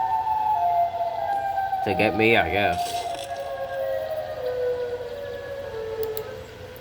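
Wailing siren from the Siren Head creature in a video game, a warbling, rising-and-falling tone that swells loudly around the middle of the clip over steady background game noise, with a voice speaking briefly.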